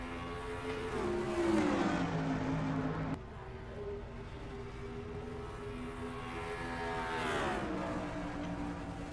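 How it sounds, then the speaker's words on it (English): Stock cars in a racing video game roar off at Dover, engine notes rising and falling steadily as the field accelerates, loud and continuous with no talk. "the field looks for a green flag, and it's out, and we're racing at Dover"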